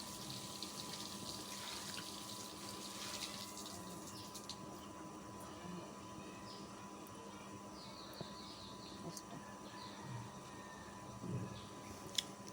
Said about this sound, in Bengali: এখন আমি সুন্দর করে বনপুঁই শাক আর আলুগুলো ধুয়ে নেব পরিষ্কার করে